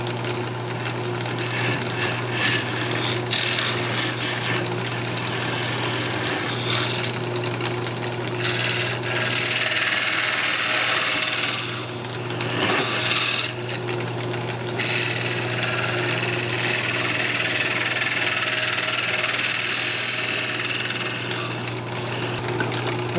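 A round nose scraper cuts wood on a turning lathe while a baby rattle is being made, giving a steady, dense scraping whir under a constant motor hum that continues throughout. The sound is close and loud.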